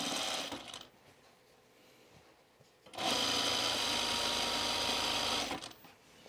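A serger stitching elastic onto pajama bottoms, running in a brief burst, pausing for a couple of seconds, then a longer steady whirring run that stops near the end, loud and close.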